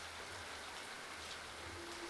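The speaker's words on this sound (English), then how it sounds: "the freezing rain pours down on them." Freezing rain pouring down steadily, a dense, even hiss of falling drops that stays constant throughout with no voices.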